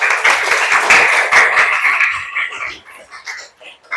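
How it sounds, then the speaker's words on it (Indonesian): A classroom group applauding, dense clapping loud and close for about two seconds, then thinning into scattered claps that fade out. "Tepuk tangan untuk Habib."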